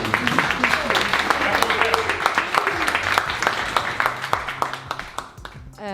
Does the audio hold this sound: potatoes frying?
no